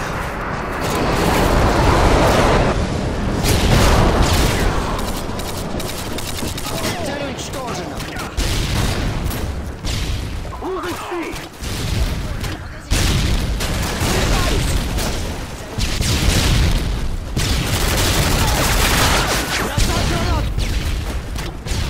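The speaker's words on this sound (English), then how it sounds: "Friendly airstrike on the way." Airstrike explosions and gunfire in a Modern Warfare 2 Domination match on Subbase, with loud, sustained booming blasts and crackling shots rolling continuously for the whole stretch, dense and close.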